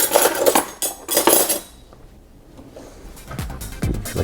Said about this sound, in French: je vais prendre une petite cuillère